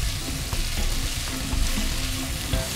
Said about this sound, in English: So you fry it a bit.